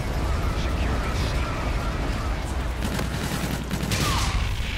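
Grenade launcher fire in Call of Duty: Infinite Warfare multiplayer: muffled bursts and pops over a dense, continuous bed of battle noise, with faint game voices mixed in.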